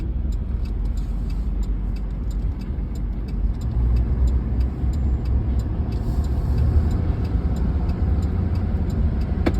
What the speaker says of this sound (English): Cars are always moving around.